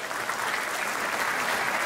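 Audience at a stand-up comedy show breaks into dense, steady applause, a close, continuous wash of clapping with no voices over it.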